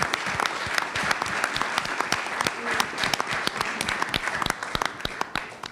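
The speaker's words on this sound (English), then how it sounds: "can we just have a round of applause for all of our custodial staff" People at a school board business meeting give a round of applause for custodial staff: brisk, uneven clapping from a modest crowd, with sharp individual claps standing out for several seconds.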